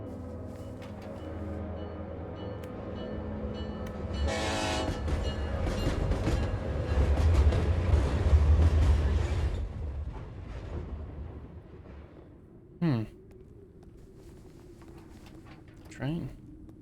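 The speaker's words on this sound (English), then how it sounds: "Train." In the video game WILL: Follow The Light, a train rumbles past with clattering wheels, swelling to a loud peak and then fading away, followed by quiet ambience and two brief sharp sounds.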